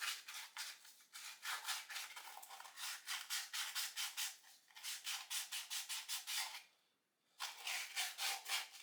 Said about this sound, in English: Sanding inside the holes was pretty repetitive